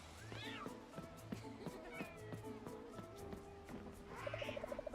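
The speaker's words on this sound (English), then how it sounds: "You hear a soft purr as Bast brushes against your leg." A cat in the farming game Coral Island meows in short rising calls over a soft, low continuous purr, with light game background sounds; a quick burst of repeated chirpy meows closes it.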